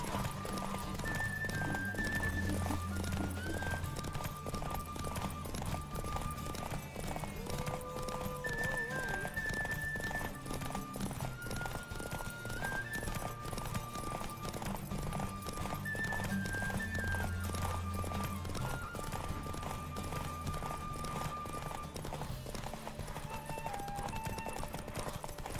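Roach, the horse in The Witcher 3, gallops with rapid, rhythmic clip-clop hoofbeats throughout, steady and up close, under a layer of melodic game music.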